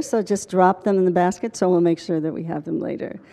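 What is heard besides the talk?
No distinct noise like a dog, phone or traffic.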